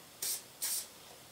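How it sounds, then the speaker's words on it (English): Two quick hissing bursts of Remington Bore Bright bore solvent from an aerosol can, sprayed close up onto a test plate, each burst about a fifth of a second long and separated by a brief pause. "Spray that here."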